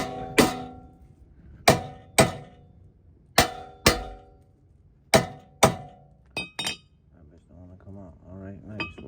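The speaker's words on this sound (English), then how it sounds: "So now I just take it out. Take a hammer." Hammer blows ring sharply against a metal tie rod on a Toyota Altezza front suspension, about eight loud clanging strikes in an uneven rhythm, close by, followed by faint rattling.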